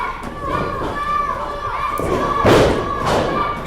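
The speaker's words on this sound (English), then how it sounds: "Shots, elbow to the midsections there. Oh, and a rising knee" Thuds of strikes in a UCW wrestling match, elbows to the midsection and a rising knee, landing as a few dull impacts over steady crowd noise with children's voices and shouting, loudest near the end.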